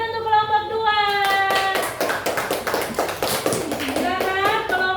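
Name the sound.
applause for a class group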